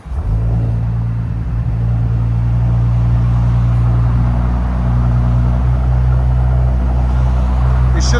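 Audi S7 with a fully straight-piped exhaust, new diffuser and tips, idling with a loud, steady low rumble and a slight rise in engine note, close up and continuous throughout.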